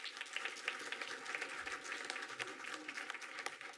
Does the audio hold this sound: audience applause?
yes